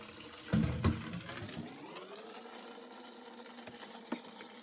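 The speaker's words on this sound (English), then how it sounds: "Crack open the drain filter. Let water drain slowly." Water drains from the opened drain filter of a Whirlpool Duet washing machine, a gurgling splash at first that settles into a soft steady trickle with a few faint drips, close by and without talk.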